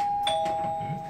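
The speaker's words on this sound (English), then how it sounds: "Yes, you guys have a doorbell," A hotel room doorbell at The Time Hotel in New York City rings once as a clear, sustained electronic tone with a light chime accent, heard close and alone.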